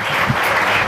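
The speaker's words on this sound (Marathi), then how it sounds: "त्याबद्दल सर्वांनी एकदा बीटीविषयी टाळ्या वाजवायला हव्या" An audience claps in a steady, dense burst of applause, fairly loud and even throughout the moment.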